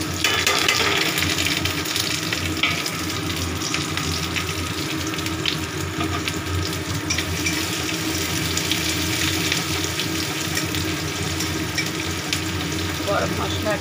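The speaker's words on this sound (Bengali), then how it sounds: "গরম মশলা, পেঁয়াজ ভালো করে ভাজা হোক।" Onion and garam masala frying in oil in a wok, a steady, dense sizzle that runs without a break for the whole stretch, fairly loud and close with no voice over it.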